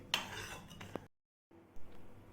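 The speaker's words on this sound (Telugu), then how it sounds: "పప్పు మెత్తగా అయింది కదండి, ఇది ఈ బౌల్లోకి వేసుకుంటున్నాను." A metal ladle scrapes and clinks against a pot while scooping soft mashed dal into a bowl, quiet kitchen sounds with one short pause partway through.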